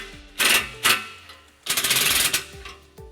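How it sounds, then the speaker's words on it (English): A ratchet on a 15mm socket tightens an exhaust clamp during a trailer hitch install on a 2012 Nissan Altima, giving short bursts of rapid clicking, two brief runs and then a longer one, close. "we're going to retighten that clamp using our 15mm socket"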